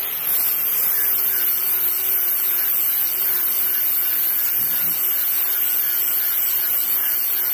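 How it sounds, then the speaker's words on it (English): An angle grinder grinds down the leftover bracket and original factory weld on a vehicle's shock mount, a loud, steady, continuous whir with no pauses or talk. "you're basically grinding down what's left of the bracket and the original factory"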